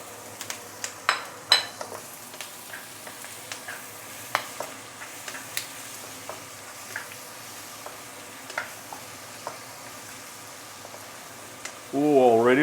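Ginger, garlic and shallot frying in a pan for braised pork belly, a soft steady sizzle broken by scattered sharp clicks and scrapes of a utensil against the pan, with a voice starting at the end.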